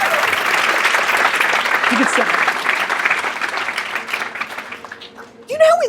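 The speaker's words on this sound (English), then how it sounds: "Clap it up for his hustle." A crowd applauds loudly in a sustained wash of clapping that slowly fades, then a nearby voice speaks briefly at the end.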